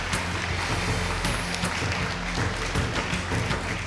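An audience applauds the five nominees in the major-user category at the Pierre d'Or awards ceremony, a steady dense wash of clapping with scattered sharper claps throughout.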